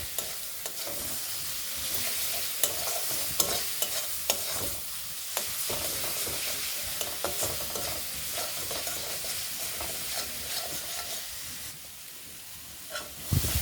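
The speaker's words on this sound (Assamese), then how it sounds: "এতিয়া মই মছলাখিনি অলপ সময় ফ্ৰাই কৰি ল'ম।" Cumin powder and dried chilli powder fry in a hot pan for an Assamese fish curry, producing a dense, continuous sizzle and crackle punctuated by frequent spoon-stirring scrapes and taps, close up and steady throughout.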